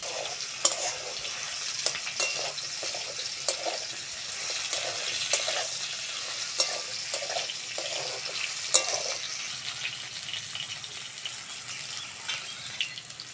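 Sliced plantain frying in oil in a pan, seasoned with salt and turmeric, is stirred with steady scraping strokes over a continuous close sizzle, with no voices.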